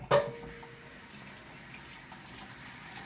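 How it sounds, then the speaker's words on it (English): Rinsing a disc golf disc under a running tap: a sharp onset of water, then a steady soft stream of flowing and splashing close by. "Rinse it off."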